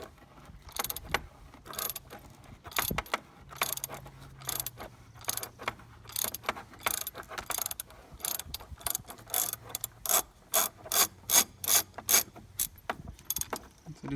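A socket ratchet clicks steadily in short runs while unscrewing the oil filter cap on a Chevy Cruze 1.4 engine, close up. The clicking grows louder and more regular toward the end, and there is no talk.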